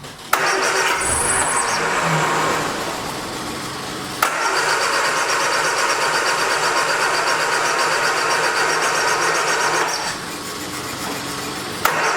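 A 1979 Triumph Spitfire engine cranks on a start attempt, with a loud, sustained churning starter drone that pauses briefly midway and then resumes. No voices are heard.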